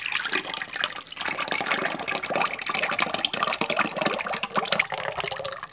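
Thick homemade yogurt slowly poured into a strainer, a steady wet splashing and splattering stream that runs without a break; close and fairly loud, with no talking.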